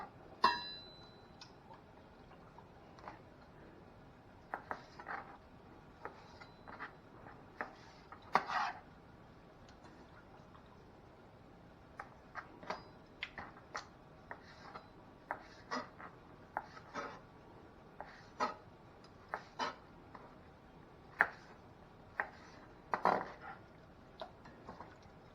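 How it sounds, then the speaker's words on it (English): Beef liver is cut up for a Jamaican-style dish, with a knife tapping and knocking against a cutting board in irregular, sparse clicks over a quiet background. "I'm just gonna cut this up and get it seasoned."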